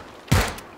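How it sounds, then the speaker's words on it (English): A single gunshot from a suppressor-fitted weapon in PlayerUnknown's Battlegrounds, one short, fairly loud blast with a brief decaying tail. "Can you hear the gunshots from my gun?"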